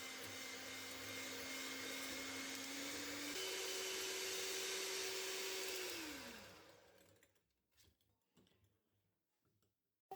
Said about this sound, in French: on va venir mélanger jusqu'à ce que ça blanchisse